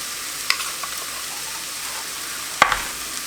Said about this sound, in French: on va faire cuire ça une petite minute, juste pour faire un petit peu torréfier les épices